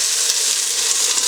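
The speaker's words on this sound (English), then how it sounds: "All I'm kind of doing right now is just kind of searing this" Chicken pieces sear in a hot pan for a chicken noodle soup, giving off a loud, steady, close-up sizzle with no talking.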